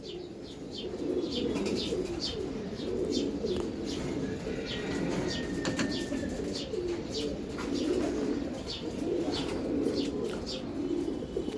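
Pigeons cooing at a pigeon farm in Dhaka, a steady chorus of soft low coos with scattered chirps and occasional wing flaps, moderately close and without speech.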